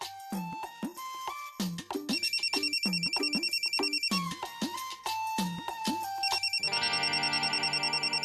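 A phone ringtone plays loud and close, a repeating melodic electronic tune, with no talk over it.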